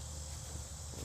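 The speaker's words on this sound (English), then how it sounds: "Stupid cicadas. Do you hear that?" Cicadas buzz steadily in the countryside, a constant high shimmering drone that fills the short moment with no talk.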